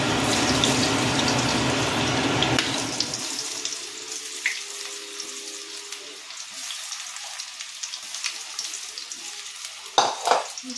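Loud sizzling and crackling of jackfruit pakoras frying in hot oil fills the start, then settles into a quieter, steady bubbling with occasional pops.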